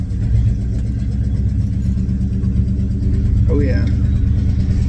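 A Chevelle's engine idles and rumbles steadily up close during a test drive, a continuous low drone under a brief spoken remark.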